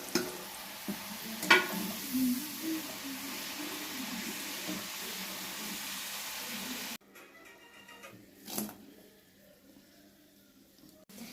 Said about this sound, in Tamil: செகண்ட் டைம் இப்போ ஃப்ரை பண்ண போறோம்